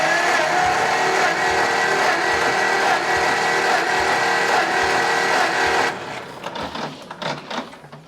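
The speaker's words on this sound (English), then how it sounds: "let me crank it for a few cranks and see what she does. Full throttle, mag off, crank away." A piston engine being hand-cranked at full throttle with the magneto switched off, so it turns over without firing: a loud, steady mechanical whirring drone for about six seconds that then cuts out, leaving a few quieter rattles and clunks.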